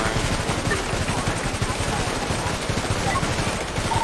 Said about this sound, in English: How is this thing shooting me through the fucking steel beam, bro?